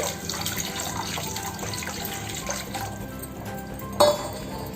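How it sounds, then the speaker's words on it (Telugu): Buttermilk and gram flour batter poured into a pan of microgreens and stirred over low heat for majjiga pulusu, a steady watery pouring and swishing with a brief clink near the end. "మజ్జిగ శనగపిండి మిక్స్ని ఇందులో వేసి సిమ్లో మనం కలుపుతూ ఉండాలి"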